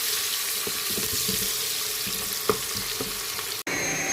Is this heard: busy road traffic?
no